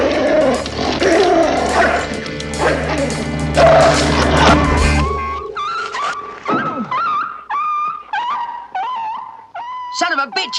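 A dog in a 1970s crime drama yips and whimpers in short high cries, close and distinct, after dense shouting and commotion that fill the first half.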